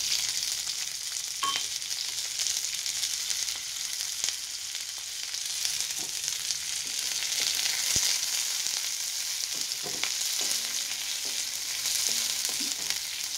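Chopped onion sizzles and fries steadily in hot oil, a continuous bright crackle with occasional soft clinks and stirring scrapes, close and alone with no voices.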